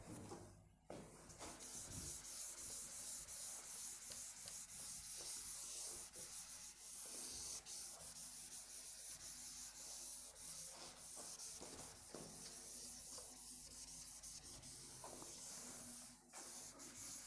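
Rubbing writing off a board during an English class, a continuous soft scratchy swishing that runs almost without pause, close and fairly quiet, with no speech.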